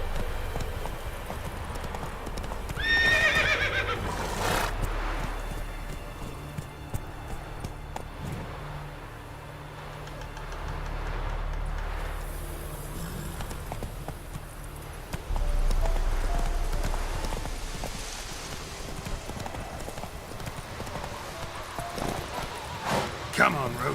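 A horse gallops and whinnies in The Witcher video game, with a rhythmic clip-clop of hooves under continuous background game sound and a voice talking over it now and then.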